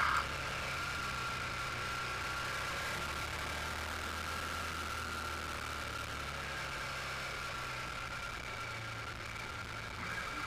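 A KTM 1290 Super Adventure motorcycle engine runs steadily at moderate distance while riding off-road, a constant low drone with a faint whine and no rises or drops in pace, no voices.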